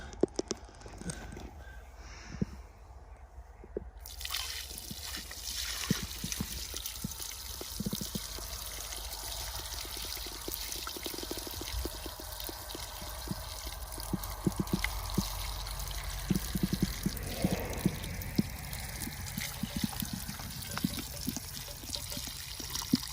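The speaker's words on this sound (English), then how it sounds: "I'm about to go ahead and pour out the blood broth just like Gideon did" Blood broth drained from meat is poured out onto a patch of outdoor dirt, making a steady, close splashing stream that runs throughout.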